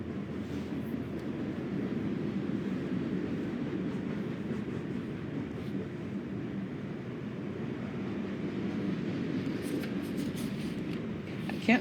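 A passing train gives a steady, broad low rumble that holds for the whole stretch at a moderate distance, with a voice faintly audible beneath it.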